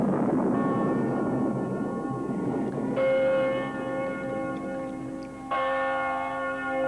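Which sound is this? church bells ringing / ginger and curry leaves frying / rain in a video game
church bells ringing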